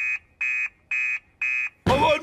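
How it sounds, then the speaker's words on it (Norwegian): Fire station alarm in the Norwegian-dubbed cartoon Fireman Sam blares four loud, evenly spaced electronic beeps, each about a third of a second long, then a voice cuts in over the end. "Alarmen går!"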